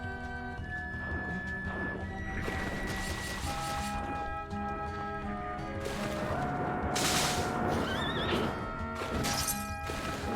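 A horse in the Bloodstained video game lets out a whinny amid layered game music and effects, with no talk over it.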